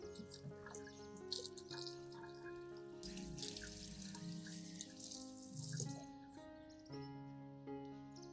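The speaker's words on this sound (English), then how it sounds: "rinse the plant under clean running water" Orchid plant rinsed under clean running tap water, a steady stream splashing and trickling with a few drips, growing louder midway, with no talking.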